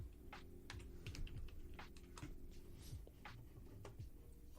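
Someone types one-handed on a computer keyboard, producing quick irregular clicks and taps close to the microphone over a steady background hum.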